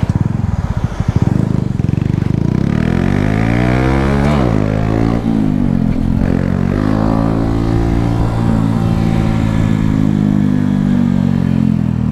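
A Honda Pop 110 motorcycle engine drones loud and close, its pitch rising and falling through steady revving for over ten seconds with no talk over it.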